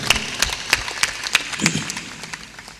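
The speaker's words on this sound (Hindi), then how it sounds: "थोड़ा ताली दमदार बजाया करो।" Audience at a motivational spiritual discourse claps in loose, rhythmic bursts of about three per second, moderately loud and close, tapering off toward the end with no talking.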